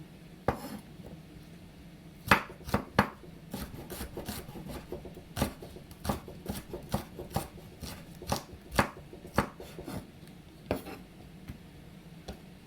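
Ginger and shallots sliced with a knife on a board: a run of sharp, close, uneven chops and knocks with short pauses between them, with no voices.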